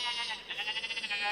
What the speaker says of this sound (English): I think we heard enough goat sound for this day, for the sake of this presentation.